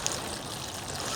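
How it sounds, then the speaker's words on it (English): Water soaking around a newly planted brassica on a garden plot, a soft steady trickling and splashing hiss lasting about a second, fairly quiet and close. "Now I'm watering it in on the plate so the water soaks in."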